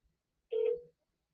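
Single short telephone ringback tone, a clean electronic burst of under half a second standing alone in quiet.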